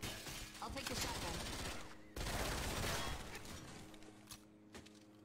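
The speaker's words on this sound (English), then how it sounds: "A machine gun?" Machine gun fire in Left 4 Dead rattles almost continuously, a dense fusillade with a brief break midway before resuming, then thinning into sporadic shots, with a voice faintly present.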